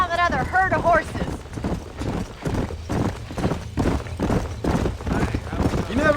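Horse hooves clip-clop steadily in Red Dead Redemption as a herd is tracked, with whinnies near the start and in-game dialogue talking over the hoofbeats throughout.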